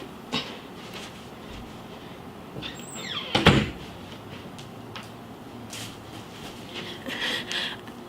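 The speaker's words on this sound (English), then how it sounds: "You gotta close the door." A door swings shut with a sharp, loud thud near the middle of a quiet room, preceded by a soft creak and followed by faint shuffling and rustling.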